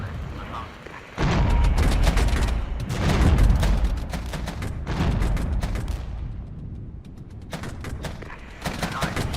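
Artillery barrage in the night-time Regiments battle, with loud, dense booms and rumbling gunfire rolling in repeated bursts, easing briefly before more volleys land.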